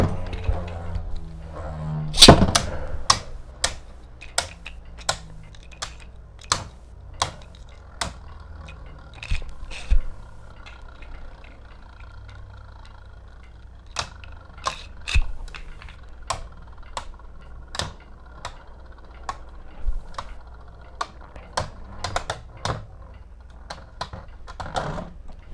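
Beyblade Heat Salamander spinning in a stadium, a low whir punctuated by sharp clacks and clashes against the opposing top and the stadium walls at irregular intervals.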